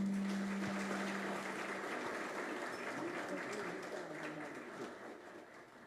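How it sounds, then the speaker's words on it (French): Applause at a civil protection ceremony installing a new director general, a broad wash of many hands clapping from a seated audience that gradually fades, with a low tone audible at the start. "je vous demande d'applaudir"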